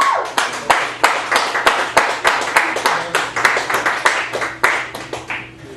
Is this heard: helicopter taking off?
no